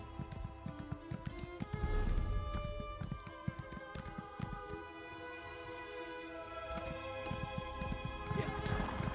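Horse hooves clip-clop in the Elder Scrolls Online game world, with a neigh and a steady rhythmic trot running beneath continuous game music throughout.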